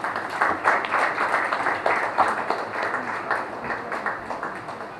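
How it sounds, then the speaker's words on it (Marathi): An audience at a Marathi stage event claps steadily to welcome Dr. Priyanka Kamble onto the stage, a dense, sustained patter of many hands filling the hall for several seconds with no speech over it. "टाळ्या वाजवून स्वागत करा"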